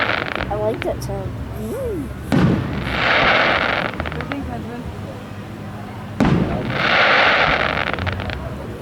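A July 4th fireworks display in South Haven, Michigan, with two heavy booming bursts followed by long, loud crackling showers, heard outdoors over a low background of wind and crowd noise.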